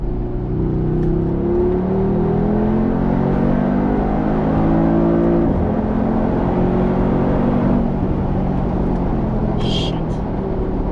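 A 2020 Mercedes-AMG G63 G-Manufaktur accelerates hard, its engine and exhaust a loud, dense drone that climbs steadily in pitch, heard from inside the cabin with no pauses.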